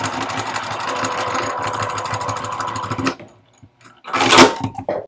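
A sewing machine runs steadily, stitching across a fabric roll-up organizer along a marked line. The loud whirring stops abruptly, then a short burst of handling noise follows.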